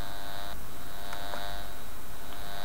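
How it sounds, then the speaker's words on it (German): Electrosmog detector sounding off on a detected HF signal, a constant electric buzz with a high whine and short clicky pulses, close and steady with no talk. "Das ist also ein typisches HF-Signal, was hier aufgespürt werden kann."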